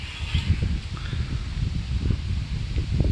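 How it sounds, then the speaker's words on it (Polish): Steady broadband rustle of wind moving through tree leaves, with soft low rumbling gusts throughout. "Ten wiatr w drzewach."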